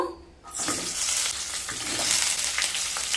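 Pointed gourd (potol) pieces drop into hot oil seasoned with turmeric and salt, setting off a loud, steady sizzle that begins abruptly after a brief quiet moment and keeps crackling close and continuous.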